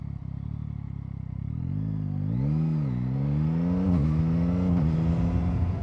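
A naked motorcycle, apparently a Yamaha MT-09, slowing into a U-turn, its engine dropping to a low rumble and then rising in pitch as it pulls away with throttle blips, close up and without talk.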